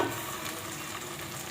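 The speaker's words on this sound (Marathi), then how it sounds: "तुम्ही बघू शकताय मसाला छान आता तेलामध्ये तळला जातोय" Spice masala frying in oil for a village-style mutton curry, a steady close sizzle and crackle that stays even for the whole brief moment, with no speech.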